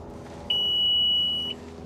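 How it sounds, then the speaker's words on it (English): A bass boat's alarm sounds after the kill switch is pulled, a single loud, steady electronic beep lasting about a second over quiet background hum. "There's my alarm."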